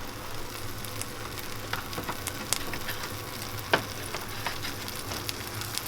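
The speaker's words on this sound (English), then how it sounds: "Still Sizzling." Salmon with bumbu kuning sizzles in a frying pan, a steady, close crackle with occasional sharp pops and light stirring, with no talking.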